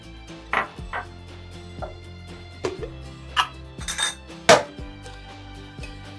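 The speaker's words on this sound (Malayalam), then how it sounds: "ഈ മിക്സിയുടെ ജാറിലേക്ക് നമ്മൾ കട്ട് ചെയ്ത് വെച്ചിരിക്കുന്ന ആപ്പിലൂടെ ഇട്ട് കൊടുക്കാം" Cut apple pieces drop into a mixer jar, a handful of separate soft knocks and clinks spaced over several seconds, close and fairly quiet with a faint hum underneath.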